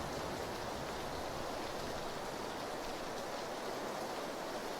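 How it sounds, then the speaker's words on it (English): Steady, even rain hisses throughout in the video game PlayerUnknown's Battlegrounds, a soft continuous wash of drops with no voices or other sounds. "Very hard to hear with the rain"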